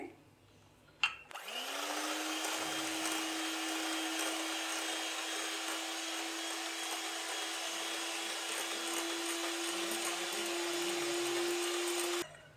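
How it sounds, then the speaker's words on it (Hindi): An electric mixer beating egg whites with vinegar at low speed whirs up after a brief clack and holds a steady, even motor drone for about eleven seconds before cutting off. "लो स्पीड पे से हम बीट कर रहे हैं।"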